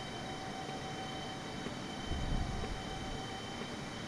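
Air China 747-8 airliner climbing in a flight simulator, a steady broad rumble of jet engine and airflow noise with a low swell partway through and no talk.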